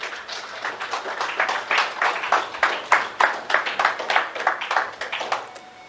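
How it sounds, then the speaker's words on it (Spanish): A church congregation claps together in a steady, fairly quick rhythm of distinct hand claps, moderately loud and close, sustained for several seconds with faint voices underneath. "Denle un aplauso al Señor."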